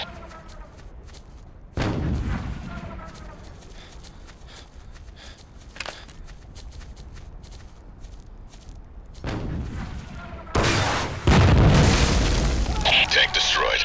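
Heavy booms and cracking blasts destroy a tank in a Ghost Recon modern-war mod set in Ukraine, loud explosions bursting at intervals with a dense roaring barrage toward the end, over a constant battle background.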